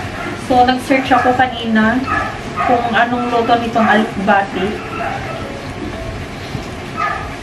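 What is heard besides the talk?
dog barking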